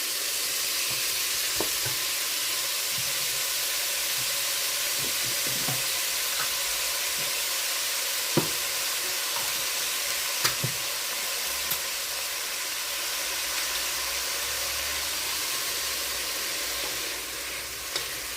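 Chopped onion hitting hot oil in a pot for pork green chili, a loud steady sizzle with occasional stirring clinks and scrapes, close and continuous.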